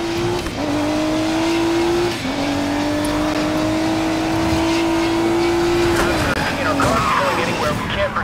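A car driven fast in the Need for Speed Payback video game, with a loud, steady high-revving engine whine that shifts pitch a few times, under speech.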